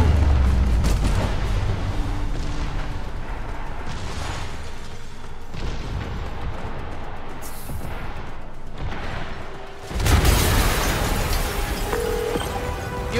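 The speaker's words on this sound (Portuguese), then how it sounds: "Yuri, uma explosão! O Fisk colocou armadilhas pelo lugar." Explosions in Marvel's Spider-Man Remastered video game: dense, loud rumbling blasts and debris noise, sustained throughout, with a sharp new burst near the end.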